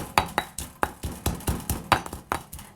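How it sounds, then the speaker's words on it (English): Chili paste for a Thai pad cha fish stir fry is pounded with a pestle in a mortar: a steady run of about a dozen sharp, close knocks with a slight clinking edge, evenly spaced and quick. "now we're just gonna pound it into a paste"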